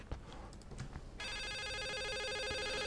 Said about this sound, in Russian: Нет, не здесь телефон.